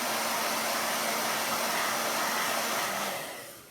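A handheld dryer blows over chalk paste on a craft project, a loud, steady close-up whoosh of rushing air that runs for over three seconds before cutting off and winding down, with no voices.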